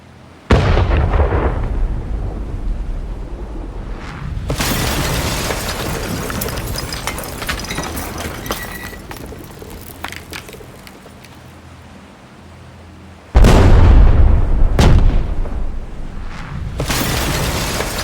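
Cannon fire and explosions surround a small Tortoise-class ironclad ship in battle: loud booming blasts with long rumbling decays, a sustained stretch of crackling bombardment, then another heavy burst and further blasts near the end.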